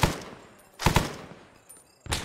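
Gunfire in the military game ArmA 3, a few separated loud reports or short bursts spaced across a couple of seconds, close by with quieter noise between.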